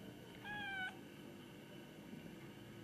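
A cat gives a single short meow in a quiet indoor room, fairly faint and alone against low background hiss.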